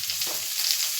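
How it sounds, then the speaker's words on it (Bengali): Onion frying in oil with turmeric and salt gives off a steady, close sizzle with crackling hiss that runs through the whole short stretch, and no voices over it. "দিয়ে এটার মধ্যে একটু হলুদ লবণ দিয়ে এটাকে একটু ভাজতে হবে।"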